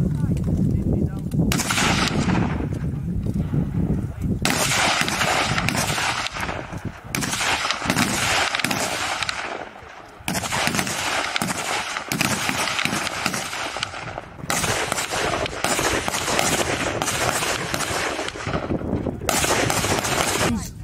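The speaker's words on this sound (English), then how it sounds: "10 rounds at the left-hand target, in your own time, fire!" Recruits training in Britain fire ten rounds at a left-hand target: dense, overlapping rifle shots crack continuously at close range, loud and sharp, with brief gaps between volleys.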